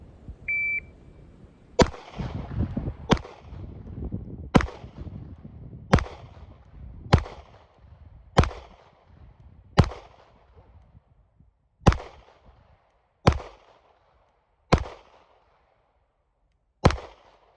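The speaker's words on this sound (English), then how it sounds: "I shot 11 shots apparently" Pistol shots fired strong hand only in a 10-yard drill, eleven sharp loud cracks spaced about one to two seconds apart, each with a short echoing decay, no talking.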